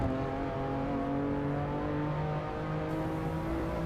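A BMW M4 GTS engine pulls hard up a hill at Oulton Park during a track lap, a loud, steady rising drone with strong harmonic tones and no letup.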